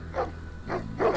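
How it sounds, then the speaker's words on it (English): Dogs bark in the video game Sherlock Holmes: The Awakened (2023), set by a house on a boat, three separate deep barks spaced apart at moderate distance over a low ambient hum. "I hear dogs barking."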